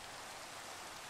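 Steady rain falls in the video game Minecraft, a soft, even hiss of drops with no breaks or voices, faint and continuous.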